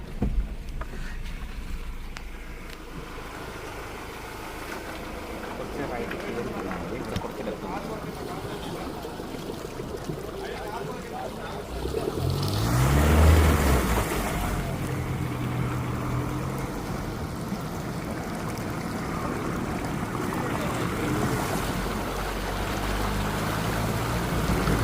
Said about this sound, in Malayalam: നമ്മൾ വെറ്ററിലെ ഒരു പുഴയ്ക്കകത്തോടെയാണ് കേട്ടോ പോകുന്നത്.